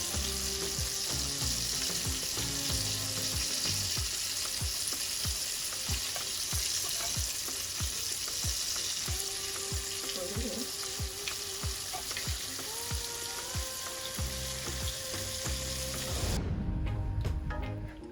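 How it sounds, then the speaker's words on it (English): Coconut milk brought to a boil in a cooking pan, a steady bubbling sizzle that runs evenly throughout, fairly quiet, with a brief clatter near the end. "the coconut milk is gonna come to a boil, and then it's gonna boil down to the oil portion of it"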